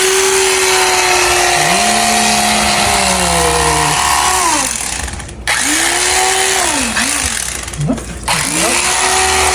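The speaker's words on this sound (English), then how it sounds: "Got my little electric knife here." An electric knife carves a Thanksgiving turkey, giving a steady, loud motor whine whose pitch sags and bends as the blades bite, with two brief cut-outs partway through.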